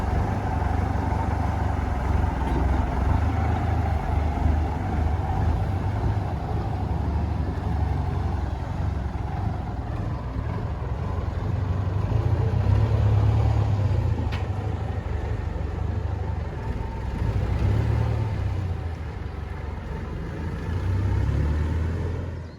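An MTZ 892 tractor with a disc harrow attached runs steadily in the countryside, a continuous deep diesel rumble that swells and eases slightly over about twenty seconds, heard fairly close with no voices.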